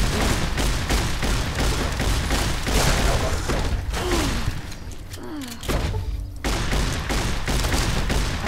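Dense, sustained gunfire from a Fallout New Vegas firefight with normal rounds, loud rapid bursts and booms running nearly nonstop, easing briefly near the middle before resuming at full intensity.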